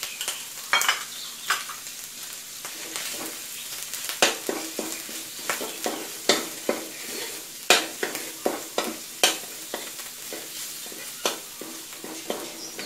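Curry paste being stir-fried in a pan on low heat before pork belly goes in, a soft sizzle under frequent rhythmic scrapes and taps of a spatula, close and steady throughout.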